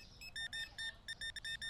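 Checkout scanner in the video game Supermarket Simulator beeping about eight times in quick uneven bursts, bright electronic tones sitting alone over a low room hum.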